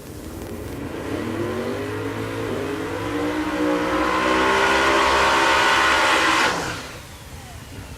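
A Camaro drag car with a Proline twin turbo big block Chevrolet at Tulsa Raceway Park builds to a loud, rising engine roar with turbo whine, holds at full power, then cuts off sharply near the end.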